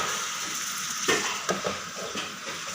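Bitter gourd (ampalaya) cooking with egg in a pan, a steady soft sizzle with a few light taps and scrapes of a utensil against the pan, close and alone.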